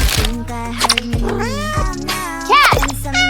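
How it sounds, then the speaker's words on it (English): A cat meows several times in high, wavering cries, loud and close, with voices talking alongside. "Cat!"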